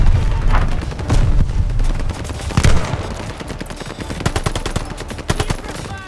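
Dense machine gun bursts in Call of Duty: Vanguard, fired in rapid rattling volleys to suppress a half-track, loud and close, with booms and scattered battle noise mixed in.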